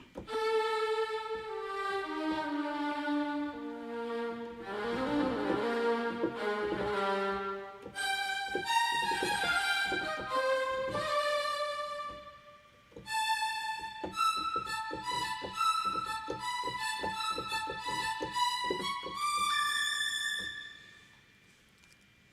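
Sampled orchestral strings, SWAM blended with Musical Sampling Adventure Strings, play sustained, layered chords and melodic lines, shifting passages every few seconds, full and steady with no voices.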